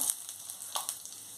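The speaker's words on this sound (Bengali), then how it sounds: "কড়াই গরম হয়ে গেছে, এবার দিচ্ছি জিরে ফোড়ন" Cumin seeds sizzle in hot oil in a heated wok while an aloo potol curry is prepared, giving a faint, close crackling hiss with a few brief louder pops.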